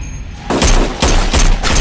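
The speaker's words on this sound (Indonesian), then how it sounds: "Jack dan Harkin pun menembak Jonah dengan tembakan berpuluh-puluh kali" Loud film gunfire in quick repeated bursts after a brief quieter lead-in, several heavy volleys close together.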